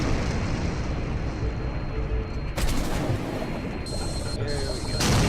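Explosions and crackling bursts in the survival video game Stranded Deep after a plane crash into the water, a loud continuous roar of rapid blasts with sharper bangs cutting in near the middle and end.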